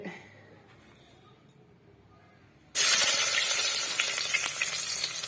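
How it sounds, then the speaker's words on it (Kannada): Green chillies and onions hit hot oil with a sudden loud burst of sizzling that stays steady and dense after a quiet start, close and alone without voices. "ಹಸಿಮೆಣಸಿನ್ಕಾಯಿ ಹಾಕೊಂಡೆ ಈರುಳ್ಳಿ ಹಾಕೊಂಡೆ ಫ್ರೈ ಮಾಡ್ತಾ ಇದ್ದೀನಿ"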